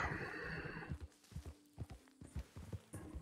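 A horse in the video game Red Dead Redemption 2 neighs loudly at the start, then its hooves thud in an uneven walking rhythm, close and clear with no talking.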